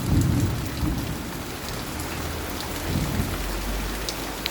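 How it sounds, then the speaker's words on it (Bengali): Heavy rain pours outside a shop, hissing steadily and loudly, while low thunder rumbles and swells beneath it in waves. "বাইরে বৃষ্টি অনেকটা প্রচুর হচ্ছে"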